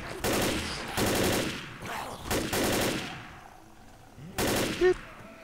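Assault rifle gunfire in the Left 4 Dead zombie shooter, sounding in several loud bursts of rapid automatic fire separated by short pauses, with a few faint background noises between the volleys.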